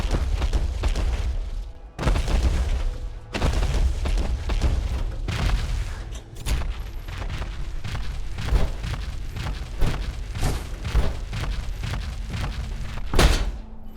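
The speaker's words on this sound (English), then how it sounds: "Now what you just heard was Pam's Power Armor Movement Sound" Heavy, metallic thuds and clanks land in an uneven rhythm over a low rumble, like massive armored footsteps stomping close by: power armor movement in Fallout 4.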